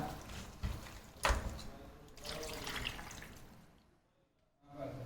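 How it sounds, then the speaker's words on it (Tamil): Water pours and splashes into a pot of coriander crab masala, a few irregular gushes over several seconds. It fades to near silence before a final short pour. "இப்போ இது தேவையான ஒரு அரை லிட்டர் அளவுக்கு தண்ணியை அதில் சேர்த்துக்கலாம்"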